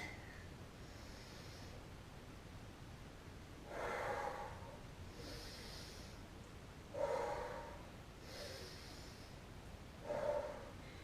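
Breathing during a Quick Fit Fusion exercise class, three or four slow, soft breaths spread a few seconds apart, faint and close over quiet background hiss, with no talking.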